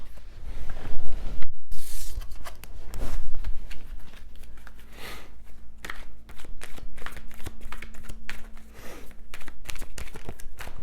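Tarot cards being handled and shuffled, with crisp riffles, slaps and papery rustles up close, interrupted by brief pauses, little or no talking.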